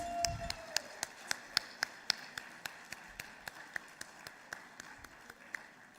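Light, sparse clapping from a small audience at a business talk-show event, crisp individual claps in a fairly even rhythm that slowly fade over several seconds.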